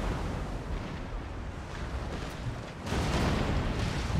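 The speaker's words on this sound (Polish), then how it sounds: "Coś tu wybuchło." Cannon fire and explosions from a naval battle at Copenhagen in the Empire: Total War video game form a dense, continuous rumbling roar that swells into a louder burst partway through, with no voices.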